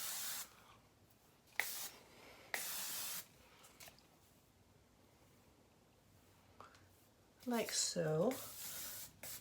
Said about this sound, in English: I'm going to spray hairspray on my ends just a little bit